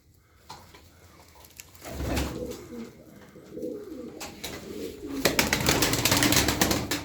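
Pigeons coo in low, rolling bursts close by, with fluttering wings and rustling noises around them.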